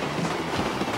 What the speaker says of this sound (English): And there goes a train.